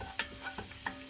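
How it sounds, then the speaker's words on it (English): Parsley being stirred into a sizzling pan, with a few distinct scraping strokes spaced over a quiet, faint fry. "Now stir that up."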